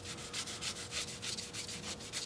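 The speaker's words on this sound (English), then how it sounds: "I did a lot of this sanding with strip sandpaper" Strip sandpaper rubs steadily against a wood-turned pedestal bowl on the lathe, a rhythmic hissing scrape with pulsing strokes about every quarter second, close and moderately loud, with no talking.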